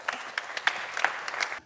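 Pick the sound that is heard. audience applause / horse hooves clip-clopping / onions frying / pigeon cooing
audience applause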